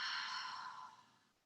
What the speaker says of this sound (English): Let's take a big cleansing breath first.